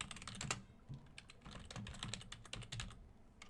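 Fast typing on a computer keyboard while Java code is entered, with irregular clusters of crisp key clicks at close range and no voices.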